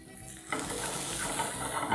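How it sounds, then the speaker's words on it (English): Onions, leeks and spring onions hit hot oil in a pan with a sudden burst of close sizzling that holds steady and loud. "proceed to fry everything together in a hot pan"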